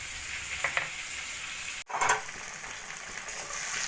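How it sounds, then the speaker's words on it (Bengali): Shrimp frying in hot oil for a shrimp and mustard dish give a steady, close sizzle and crackle with no talk, broken by one brief clatter near the middle before the frying hiss resumes. "চিংড়ি মাছ ভাজা হতে হতে"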